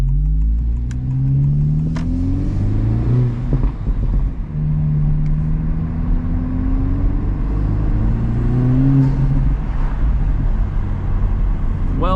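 A tuned Honda Civic Type R FL5 on a 93 tune pulls hard through the gears on a drive in Kansas City, its engine drone rising in pitch, dropping at each shift, then climbing again over a constant low cabin rumble.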